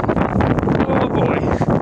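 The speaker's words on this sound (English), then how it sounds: "Man, the wind is like blowing towards me." Strong wind buffeting the microphone at an outdoor commuter train station platform, a loud, close, continuous rumbling roar with no talk.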